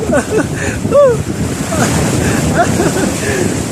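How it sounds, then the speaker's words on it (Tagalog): Ocean waves surge and wash in loudly, breaking near the shore under steady wind noise on the microphone, with brief bird-like chirps and scattered voices rising over the rushing water. "At inabot po tayo ng alon."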